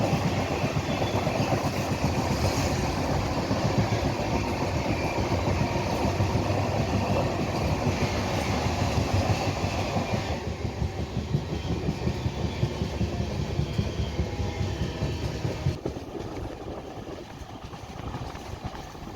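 Train rolling along the rails on a Tamil rail journey, a steady loud rumble with rapid clickety-clack from the wagons continuing throughout, easing slightly toward the end.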